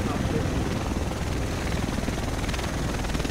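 A helicopter arrives in Tom Clancy's The Division video game, its steady rotor thudding and engine whine filling the scene at constant loudness while voices talk over it.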